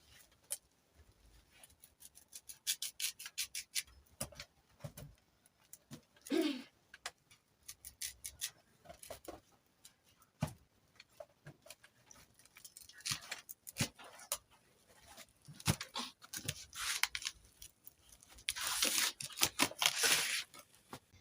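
Knife cutting arrowroots for nduma stew, with a run of sharp, crisp chops and slices at irregular spacing, some of them loud and close.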